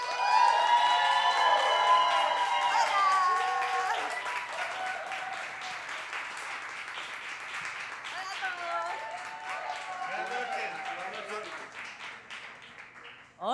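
An audience at a televised stage event bursts into loud applause and cheering to welcome Santi and Laurita. Dense clapping and shouts fade slightly, with voices rising over the crowd noise near the end.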